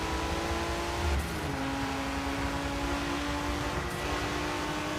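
An 1980s Porsche engine in Forza Motorsport 7 drones steadily under load, a continuous mid-pitched hum with slight shifts in tone as speed changes, with no talk.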